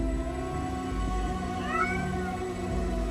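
A cat meows in the video game 1666 Amsterdam, a drawn-out, wavering call that rises and bends over a steady low ambient drone, clear and fairly close.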